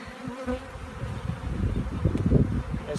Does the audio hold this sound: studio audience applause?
no